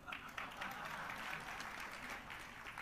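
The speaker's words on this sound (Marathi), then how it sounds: "आता जे माझे त्यांनी टाळ्या वाजवल्या" Steady applause from a kirtan audience, a dense even wash of clapping that runs unbroken at moderate, slightly distant level throughout.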